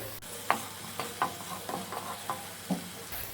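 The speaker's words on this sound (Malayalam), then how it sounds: "ഇത് നമുക്കൊന്ന് മിക്സ് ചെയ്തു. ഇതൊരു 1 മിനിറ്റ് നേരം ഒന്ന് വാട്ടിയെടുക്കാം." A spoon stirs ground tomato paste, made without added water, in a hot pan for a chicken curry: a steady run of soft scraping strokes about every half second over a low, continuous sizzle, close and alone without any talk.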